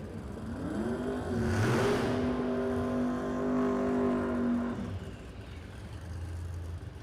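A drag racing car launches down the strip at a street car event in Las Vegas, its engine roaring loud with a rising revving tone for several seconds, then fading as it pulls away.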